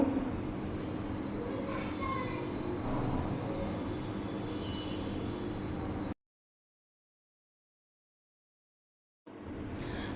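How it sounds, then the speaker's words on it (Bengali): A metro train rumbles past in the rain with a steady metallic roar and faint wheel squeal, then the sound cuts to silence before briefly resuming. "জ্ঞান মডেল স্কুলের গেট থেকে মেট্রো রেল চলে গেল"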